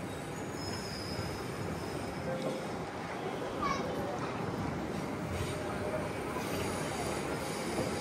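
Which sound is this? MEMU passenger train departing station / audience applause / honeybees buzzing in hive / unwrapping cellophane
MEMU passenger train departing station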